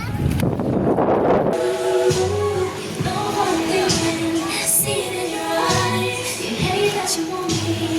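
Strong gusts of wind on Camiguin island buffet the microphone with a loud rumbling roar, while voices talk over the blustery noise.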